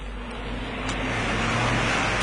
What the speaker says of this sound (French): Un car de touristes.